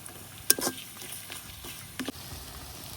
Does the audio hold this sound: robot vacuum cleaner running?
no